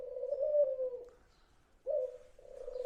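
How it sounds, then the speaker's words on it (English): Doves coo outside near an old mill in New England, two or three low, soft hooting phrases with a short gap between them, close and clear against a quiet background. "Okay, there's the doves are cooing."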